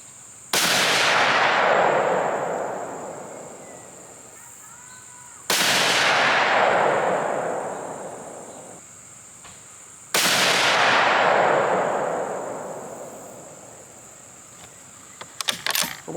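Three loud .308 rifle shots firing Barnes Harvest Collection 165-grain ammunition, each a sharp blast with a long echoing decay, spaced about five seconds apart, followed by faint clinks at the end.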